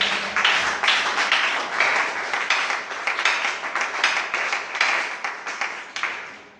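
A church congregation breaks into sustained, dense applause, many hands clapping together at a steady volume before it gradually fades away at the end.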